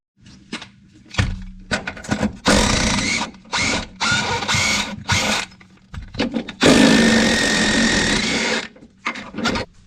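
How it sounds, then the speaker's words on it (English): Bolts come off a 1999–2004 Jeep Grand Cherokee rear end with a power tool, loud close bursts of whirring and rattling between short pauses and a few clanks, no talking. "Take that bolt and that bolt before you even lift anything up."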